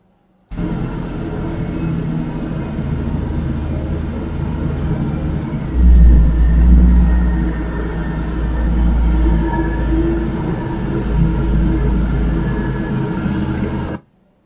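A loud truck rumbles past outdoors at night, a steady low drone that swells once as it passes closest and then holds before cutting off, with no voices.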